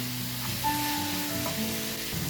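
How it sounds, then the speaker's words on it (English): Food for a Nigerian meat pie filling is stirred in a hot frying pan, giving a steady close sizzle with occasional scrapes and soft clinks throughout, and no voices. "So I'm going to stir"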